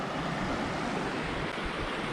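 Vehicle driving through a river crossing on Otay Mountain, a steady broad rush of splashing water and churning noise, close and continuous with no talking.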